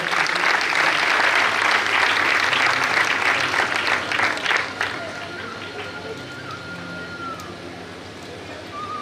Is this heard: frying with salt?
no